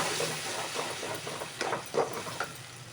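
Ground gravy masala for a mushroom cashew curry hits hot fried onions in a pan, giving a steady close hiss and sizzle with scattered crackles and pops.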